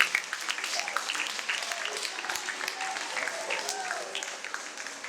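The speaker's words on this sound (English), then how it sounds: "Please give a big round of applause." Audience applause at a breast cancer awareness talk, a steady wash of clapping throughout with a few voices and cheers mixed in, fairly close and moderately loud.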